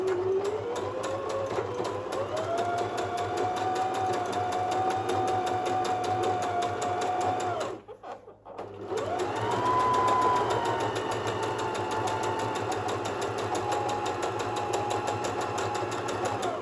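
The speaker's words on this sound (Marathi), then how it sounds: "अशा पद्धतीने मी हा एक माझा बटव्याचा बाहेरचा भाग शिवून घेतला आहे." A sewing machine stitches the outer part of a cloth pouch, running in a steady, fast whirring drone close up, stopping briefly midway and then resuming at a slightly higher pitch.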